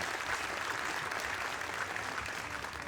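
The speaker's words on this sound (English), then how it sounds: "Well-deserved round of applause." Audience applause at the 2019 Predator World 10-Ball Championship final between Joshua Filler and Ko Ping-Chung, steady and dense throughout, evenly sustained without voices standing out.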